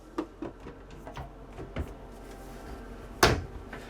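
Several soft wooden knocks and slides from residential-grade cabinet drawers or doors in a Tiffin Phaeton motorhome, ending with one louder bang as something shuts, in a quiet room.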